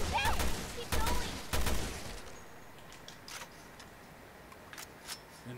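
Three loud gunshot bursts in Resident Evil: Revelations 2 fire in quick succession, followed by quieter scattered clicks and faint ambience.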